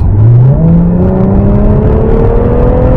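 An Infiniti Q50 Red Sport 400 sedan under kickdown acceleration from around 60 km/h, engine note rising steadily in pitch as revs climb, loud and close from inside the cabin, no talk.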